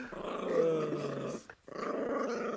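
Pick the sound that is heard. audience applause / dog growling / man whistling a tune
dog growling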